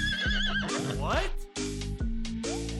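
A horse whinnies loudly and close several times in quick succession, the shrill neighs mixed with other cartoon-like effects and bursts of sound.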